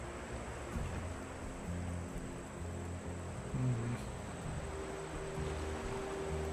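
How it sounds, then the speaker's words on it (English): Ocean waves wash and swirl in the survival game Raft in a continuous soft surf, with low ambient tones droning underneath and no talking. "I thought the waves were abating as well."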